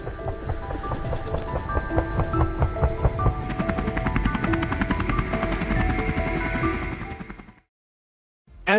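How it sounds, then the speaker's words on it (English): A battle helicopter flies overhead, its loud, dense rotor chop and engine roar continuous and building, then cutting abruptly to silence before a brief loud burst at the very end. "the battle helicopter took to the skies"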